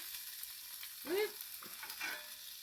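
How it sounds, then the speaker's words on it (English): Sirloin steak frying on bacon in a pan: a soft steady sizzle with a brief scraping stir, quiet and close, no voices. "I'm going to cook the sirloin steak on the bacon"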